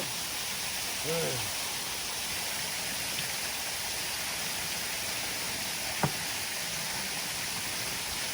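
A waterfall, Tat Wiman Thip in Bueng Kan, making a constant broadband rush of falling water that fills the whole scene at steady loudness, with a brief faint voice and a small knock.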